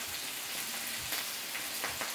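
Vegetable stir fry for Filipino pinakbet sizzles in a pan, a faint steady crackle and hiss with small pops.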